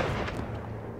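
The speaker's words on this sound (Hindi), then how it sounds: "फालतू में मुझे गोली चलानी पड़ी" A gunshot in a Hindi-dubbed Hollywood bank heist action movie: a single dense, muffled blast with a booming low-end tail that stays loud across the whole short moment, with no talk over it.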